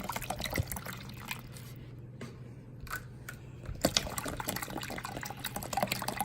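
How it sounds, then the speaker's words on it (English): Water is poured into a cold brew coffee maker over grounds, with a quiet splashing and filling sound that pauses briefly midway and then resumes, close by with no talk. "pouring in the water."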